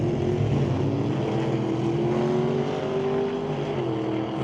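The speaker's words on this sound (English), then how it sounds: "the Willys obviously a little lazy off the starting line, but scoot along pretty good down there at the other end" A 1941 Willys drag racing car at an NHRA test and tune event, its engine a loud continuous roar with a steadily rising pitch as it accelerates down the strip.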